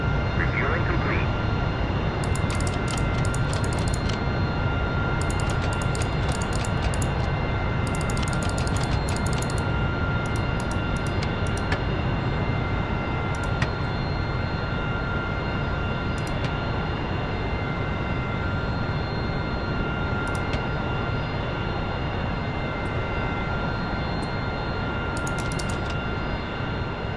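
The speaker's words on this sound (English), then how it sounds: "What is all that noise? That's the guy next to us is backup hydraulics pump, I think." Backup hydraulic pump of a neighbouring jet in the game Half-Life 2: Riot Act, a continuous mechanical whine and hum under steady engine noise, with scattered sharp clicks breaking through.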